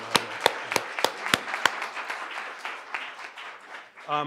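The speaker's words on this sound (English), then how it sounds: "I think a brief applause now for Jay is certainly" An audience at a law-school launch event breaks into a brief round of applause, opening with several sharp individual claps before settling into a soft, scattered patter that fades out as a voice starts.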